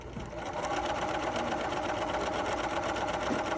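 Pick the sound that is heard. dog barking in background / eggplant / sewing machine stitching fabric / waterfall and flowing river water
sewing machine stitching fabric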